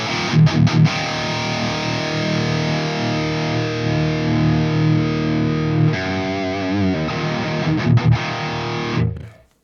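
Electric guitar played through a Sonulab Stompstation NAM-capable amp-modelling pedal, a loud distorted tone with sustained chords and a few sharp strummed attacks near the start and end, the sound cutting off abruptly at the close.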